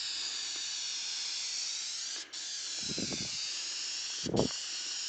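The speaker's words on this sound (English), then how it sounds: "I'm keeping about 8 to 12 inches off. I'm just doing a really fine misting coat." Aerosol spray painting a Ford Expedition grill in a fine misting coat from about a foot away, a continuous close hiss with two brief interruptions and a few low rattling bumps.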